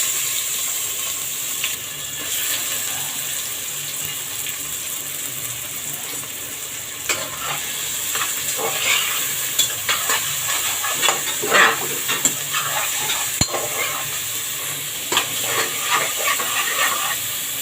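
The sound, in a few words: onions frying in a pan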